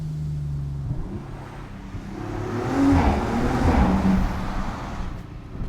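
A 2023 Audi RS4 B9 with a particulate filter drives through a short tunnel, its engine note swelling as it accelerates midway and echoing off the walls before settling back to a steady cruise.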